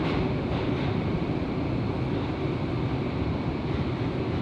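A train running in Japan gives a steady, loud broadband rumble and rush throughout, like interior cabin noise at speed, with no pauses or distinct events.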